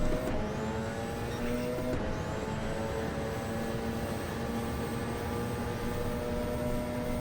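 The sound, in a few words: Porsche engine revving in a racing video game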